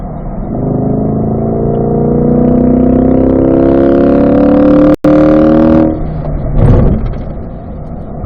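A Chevrolet C8 Corvette accelerates hard on a race track, its engine rising loudly in pitch for several seconds before a quick downshift blip and a drop back to a lower, steadier drone.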